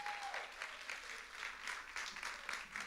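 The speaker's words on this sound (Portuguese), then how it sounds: "Pode aplaudir ao Senhor" Church congregation applauding during a worship service, faint, rhythmic clapping in unison with a steady beat, heard at a distance along with a brief tone at the start.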